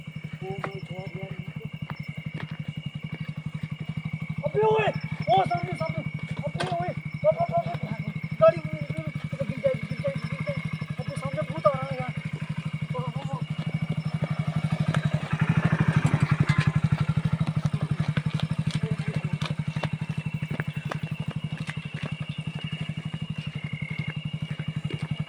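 A motorcycle engine runs at night on a deserted road, a low steady idle hum persisting throughout with faint clatter, while people talk and call out over it.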